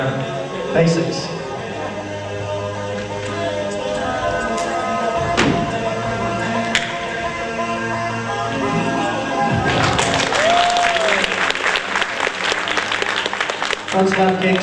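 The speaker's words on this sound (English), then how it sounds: "feel free to clap" Audience applause breaks out late at a 2004 youth martial arts showcase, rising from a hall already filled with thumps, taps and an announcer's voice into a dense, sustained clapping that runs to the end.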